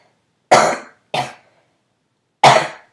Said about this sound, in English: I am getting seriously coughed up.